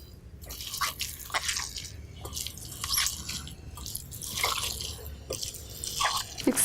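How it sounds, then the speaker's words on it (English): Balinese snake bean salad with coconut milk and kaffir lime being mixed by hand, giving soft wet squelches and drips in an irregular rhythm, close and fairly quiet. "So we're going to mix together."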